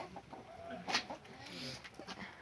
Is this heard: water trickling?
no